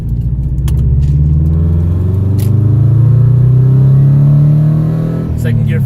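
Scion FR-S sports car accelerating hard through the gears, a loud, steady engine drone rising in pitch from inside the cabin, with a brief shift dip near the end.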